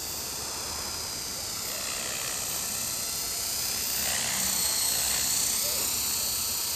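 A radio-controlled model helicopter on a test flight after plastic linkage repairs, its rotor and motor giving a steady high buzzing whine that swells slightly louder as it nears, continuous throughout.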